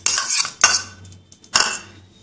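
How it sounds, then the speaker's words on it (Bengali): A spoon scrapes and clinks against a large bowl while spices, onion paste and ginger-garlic paste are mixed into sour yogurt, in three short bursts of clattering with brief pauses between. "সব মশলাগুলো আমি মিশিয়ে নেবো টক দইয়ের মধ্যে"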